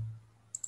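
Two quick, light mouse clicks in close succession, small and crisp, follow a brief low thump on an otherwise quiet desk.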